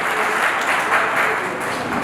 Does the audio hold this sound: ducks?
no